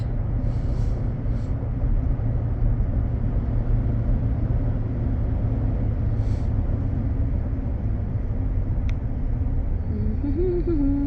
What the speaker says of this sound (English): I'm going to check the four-wheel drive over here on a gravel patch.